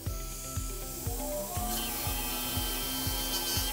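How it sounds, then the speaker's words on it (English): A dental FlexiDisc fine disc polishes a composite restoration, giving a rhythmic whirring rub with regular pulses about twice a second over a steady hum of the handpiece, close and alone. "We're going to go to the yellow, which is the fine disc. And the fine disc, as we said before, we'll just start the polishing."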